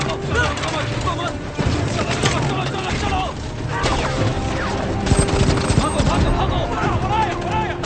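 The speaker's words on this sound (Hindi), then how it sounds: "हम पर गोलियां चल रही हैं।" Rapid gunfire crackles through a Hindi-dubbed Hollywood action movie scene, bursts of shots and crashes layered over a dense score, loud and continuous with sharper volleys near the end.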